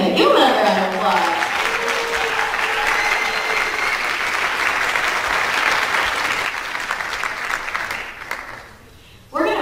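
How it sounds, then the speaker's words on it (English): Audience applause after a school orchestra piece at a high school winter concert, a dense, sustained clapping from a large crowd that carries on for several seconds before tapering off and abruptly stopping. "Give another round of applause."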